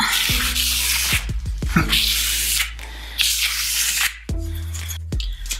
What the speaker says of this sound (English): I have to kind of use the end of the trowel like that, like that to get it started. And then I can pull it out.